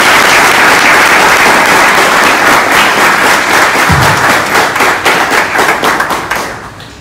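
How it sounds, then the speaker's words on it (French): A loud burst of audience applause for Chesnel Pierre, director general of the ONA, with dense clapping that holds steady and then gradually thins and fades toward the end. "que je vous demande d'applaudir"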